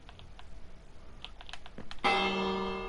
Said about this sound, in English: I put a bell just so we can let people know when we're here.